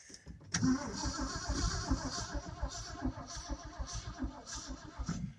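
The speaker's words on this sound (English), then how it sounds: "See, it's not cranking like it's supposed to be." A 1967 Ford F350 truck engine cranks slowly at half choke, the starter labouring in an uneven chugging rhythm of heavy beats that never catches, heard up close with no talking.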